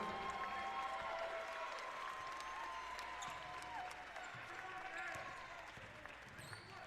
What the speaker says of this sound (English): if you hear a round of applause again, this time it's for Corey Kirk, the senior guard